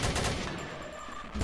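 Rapid gunfire in a Doom-style first-person shooter, a dense, continuous burst of shots lasting under two seconds at a fairly low level.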